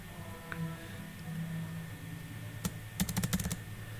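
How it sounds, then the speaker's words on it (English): A computer keyboard spacebar pressed repeatedly in a quick burst of sharp clicks near the end, close and fairly loud, preceded by a low hum with no talking. "let's say we do it the wrong way and just press spacebar a lot."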